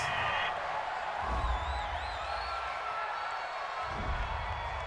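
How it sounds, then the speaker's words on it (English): A home stadium crowd at an NFL game between the Baltimore Ravens and Kansas City Chiefs roars and whoops after a pass interference call, a broad sustained wash of cheering with faint whistle-like tones above it. "This home crowd, they're happy with that call."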